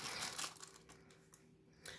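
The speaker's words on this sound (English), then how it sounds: "You can hear the tape in the background." Quiet crinkling and tearing of tape, a few short rips and crackles close by, with no talking.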